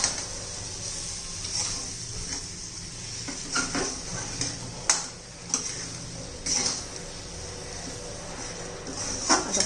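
A village-style green capsicum curry with grated coconut is stirred in a pan, with a spoon scraping and clinking against the metal in irregular strokes over a soft background sizzle.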